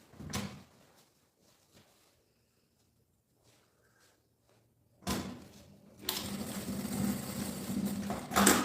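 A sewing machine stitches the end of a strap onto a messenger bag, starting after a pause and running steadily and close for a few seconds, with a brief handling knock at the start.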